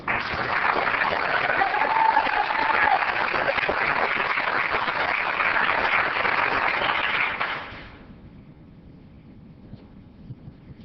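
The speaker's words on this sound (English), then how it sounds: "Let's help Junior celebrate with a round of applause." Applause from the audience at an Oceanside city council meeting, honoring an employee: a steady, even roar of many hands clapping for about eight seconds, then cutting off to quiet room tone.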